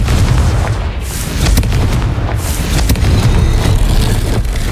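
A Confringo spell blast in Hogwarts Legacy erupts as loud, booming explosions, several heavy bursts with crackling debris rolling continuously over about five seconds.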